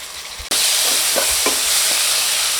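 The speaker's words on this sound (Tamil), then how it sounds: "இதையும் சேர்த்து நல்லா வதக்கி விட்டுக்கலாம்" Tomatoes sauté with masala and a little salt for street-style pav bhaji. After a brief quiet moment, a loud hissing sizzle bursts in and holds steady, with a few stirring scrapes underneath.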